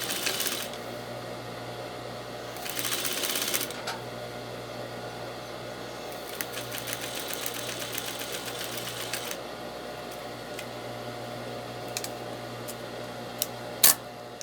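Sewing machine stitching fabric, quiet and close, with short bursts of rapid mechanical whirring separated by low hum, pauses and a few small clicks.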